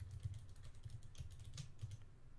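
Rapid clicking of keys on a computer keyboard, close and fairly quiet, in uneven bursts of typing with no voices.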